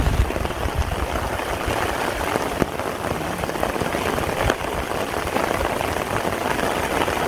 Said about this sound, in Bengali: যে প্রচুর বৃষ্টি হইতাছে।